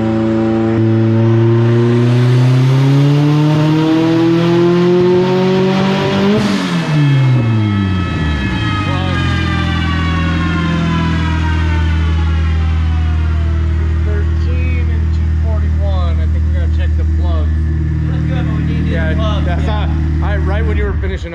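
A turbocharged car engine misfires while it revs. The loud, close note climbs steeply, drops away and then settles into a rough, uneven idle with stuttering pops.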